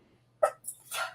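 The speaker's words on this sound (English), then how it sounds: "having a couple of sneezes" A woman sneezes once, sharp and close, followed by a couple of short breathy sniffs and exhalations in an otherwise quiet room.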